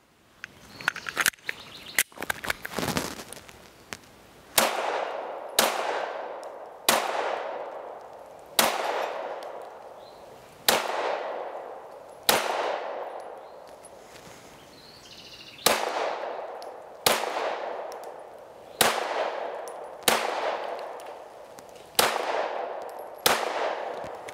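Gunshots from a Mossberg MC2C pistol ring out outdoors: a rapid cluster of shots, then a steady series of single sharp cracks about two seconds apart, each fading with echo.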